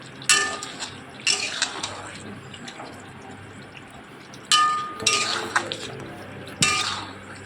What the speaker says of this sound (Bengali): ভালো করে নাড়াচাড়া করে নেবো, যাতে মশলাটা না লেগে যায়।